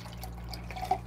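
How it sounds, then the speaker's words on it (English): Water is poured to refill a kettle or reservoir for brewing V60 pour-over coffee, heard as soft trickling and a few small drips and splashes close by in a quiet room, with no talk. "I'm just gonna fill up my water."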